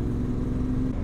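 Yamaha Tenere 700 motorcycle engine as the throttle rolls off, a brief moderate steady hum with a low drone, no talking.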